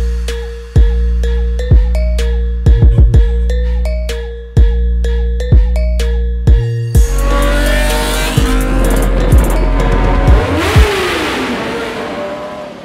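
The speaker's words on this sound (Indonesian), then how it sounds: "Ini dia new NMAX Turbo." A Yamaha NMAX Turbo maxi scooter revs and rides, its engine surging in repeated sharp bursts that build into a steady, loud roar in the second half.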